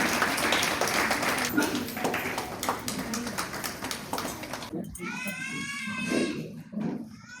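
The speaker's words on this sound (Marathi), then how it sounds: "सगळ्यांनी जोरदार टाळ्या वाजवायच्यात." An audience at a Red Cross annual day prize ceremony claps in a steady rattling patter that thins out, followed by a lively voice with tonal warbling near the end.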